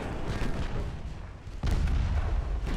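Heavy booms from 6-inch naval guns on a small gunship firing a broadside in Ultimate Admiral Dreadnoughts, a rumbling salvo with one loud deep blast landing midway and sustained roar after.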